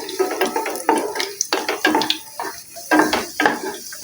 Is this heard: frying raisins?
yes